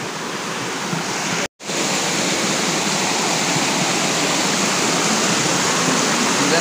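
Clear water flowing in a stream near Siddhaganesh temple at Shirwande Bamniyewadi, a loud, steady close rushing wash with one abrupt momentary dropout early on.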